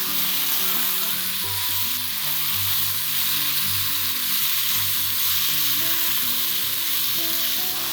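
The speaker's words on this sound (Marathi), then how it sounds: "भाजी छान परतून घ्यायची." Radish pods (mogri) sauté in a pan with a continuous loud sizzle and occasional stirring, close up, with no talking.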